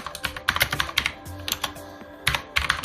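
Rapid bursts of typing on a computer keyboard, with close crisp key clicks arriving in irregular clusters and short pauses, and no one talking.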